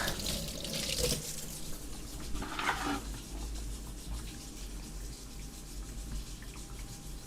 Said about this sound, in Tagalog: Try natin ulit kay Lucano kung walang leak